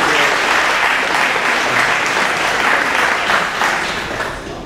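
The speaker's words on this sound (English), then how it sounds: "if we can all give them a quick round of applause for all they've done here" Wedding guests applaud loudly and continuously, a dense, close round of clapping that holds steady before easing slightly at the end.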